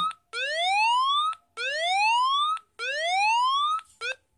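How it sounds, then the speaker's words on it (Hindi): A phone anti-theft app's electronic siren alarm blares in three long rising whoops separated by short gaps, then a brief clipped burst, loud and piercing. "ये देखिए आप कैसे एक सायरन बज गया"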